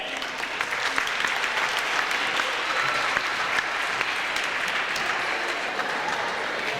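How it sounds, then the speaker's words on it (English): Sustained audience applause in a gym for ten Little League basketball teams at a championship event, a steady roar of many hands clapping with faint crowd voices underneath. "Let's give all those 10 teams a round of applause right now."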